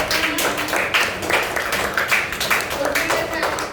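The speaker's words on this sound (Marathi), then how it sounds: "जोरदार टाळ्या" Children in a classroom activity break into applause, a dense run of quick claps that rises and falls in loud bursts, with voices mixed in underneath.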